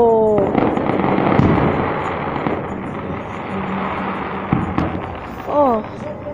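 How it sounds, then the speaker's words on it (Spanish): A fireworks bomb bursts during a castillo burning at a town festival in San Miguel Ameyalco, sharp booms and crackling over a steady roar of pyrotechnics, while excited spectators talk and shout nearby throughout. "ahí va otro. Una bomba."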